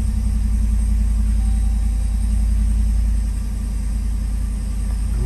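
A Jeep engine idles steadily nearby, a constant low rumble with no voices, easing slightly softer toward the end.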